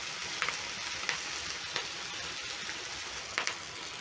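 Fish with thyme leaves frying in a pan makes a dense, steady sizzle that stays loud and close throughout, with a few faint pops and spatters and no voices.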